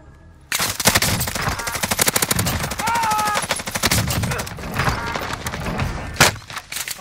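In the Warzone battle royale shooter, sustained close automatic gunfire bursts out suddenly, a rapid string of loud shots that keeps going for several seconds, with a heavy thud near the end.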